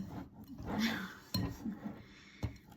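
Cupcake batter whisked in a bowl with upward strokes against the sides, giving soft wet swishes and a few sharp clinks of the whisk on the bowl, mixed with quiet talk.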